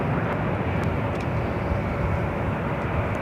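A Delta A319 airliner takes off at Los Angeles International Airport: a steady, loud broadband jet roar that holds evenly throughout, with no voices over it.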